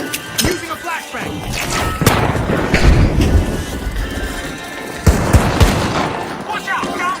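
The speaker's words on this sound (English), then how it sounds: "Using a flashbang!" Flashbang grenades going off in the video game The Finals, a few sharp bursts around 0.5, 2 and 5 seconds amid constant chaotic gameplay noise, loud and close, with voice callouts in the mix.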